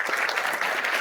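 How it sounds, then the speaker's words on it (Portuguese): Audience at an RNP launch event applauds a departing secretary, a dense, steady burst of clapping filling the short moment without pause. "Vamos aplaudi-lo?"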